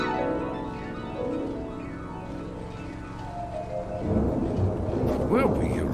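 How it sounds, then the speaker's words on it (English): A radio-drama thunderstorm effect of rumbling thunder and steady rain, the thunder swelling louder partway through, with voices speaking over it. "Gonna be a big old storm tonight."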